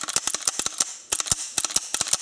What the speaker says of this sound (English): all you do is just rack the slide, and the pin will drop